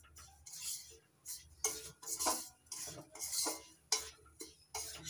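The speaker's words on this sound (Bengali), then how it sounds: "চিনির গুঁড়ো সুজির সঙ্গে ভালো করে মিশিয়ে নিচ্ছি" Sugar powder is stirred into roasted semolina in a pan for modak, giving bursts of scraping and clinking from a metal spoon against the pan at a steady, unhurried pace, quiet and close, with no talking.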